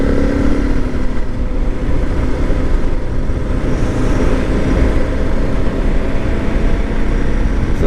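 Motorcycle riding slowly through a neighborhood, a steady loud rumble of engine and wind buffeting heard from the rider's position, continuous for the whole stretch with no voices.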